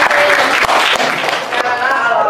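A classroom of students applauds a classmate's perspective drawing. Loud, close clapping is mixed with voices and chatter, and it thins out toward the end.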